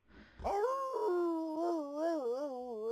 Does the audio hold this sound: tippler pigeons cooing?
no